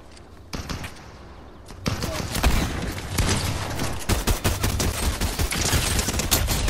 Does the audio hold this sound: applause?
no